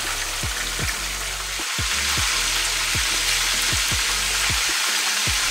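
Oxtails sizzle and fry steadily as they brown in a pot, a continuous crackling hiss broken by repeated soft clinks and scrapes, with no talking.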